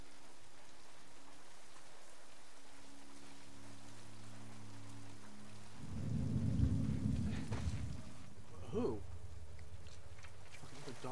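Rain and rumbling thunder in The Last of Us Part 2, a steady wash of rainfall with a deep, loud thunder roll swelling midway and fading, plus faint game sounds, with no talking over it.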